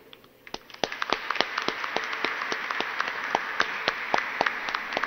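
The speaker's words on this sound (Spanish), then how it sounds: "te regalamos este aplauso de alegría y de gozo" A congregation at a Catholic Mass in a national sanctuary breaks into applause, beginning with a few claps before swelling into steady, brisk clapping with no speech.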